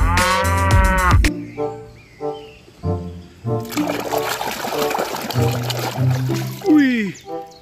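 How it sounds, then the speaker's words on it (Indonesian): A cow moos repeatedly in an animal-cleaning video game, with bright game tones at the start and splashing water sounds, while a person talks between the calls. "Sapi."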